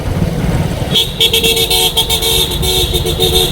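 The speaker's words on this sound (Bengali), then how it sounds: "তুমি বাসের হর্ন লাগাতে পারতে, বাইকে কি করছে তোমার হর্ন?" Horn honking on a motorbike fitted with a bus horn: a loud, sustained tonal blare that cuts in after about a second and carries on in several pulses over engine and street rumble.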